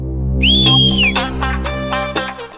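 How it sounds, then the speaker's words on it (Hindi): A man whistles a loud, clear, close tune with a long rising and falling note, then shorter notes, over a steady low background hum. "सीटी मार रहा हूँ।"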